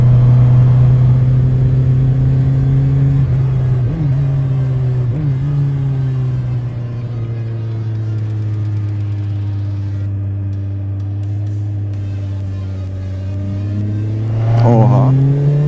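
A Kawasaki Z1000-R motorcycle engine drones steadily while riding, its pitch dipping and rising as the throttle changes, with a brief rev climb near the end.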